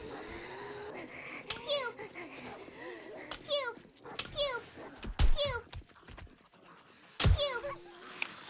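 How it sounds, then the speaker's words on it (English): A dog in the video game 7 Days to Die barks and whimpers in short repeated bursts, moderately close, mixed with game sounds and people talking. "I hear another dog."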